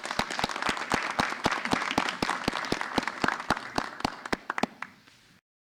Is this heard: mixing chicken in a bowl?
no